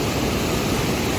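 Water released from a mountain dam rushes downstream in a dense, unbroken roar, loud and steady throughout with no other sounds.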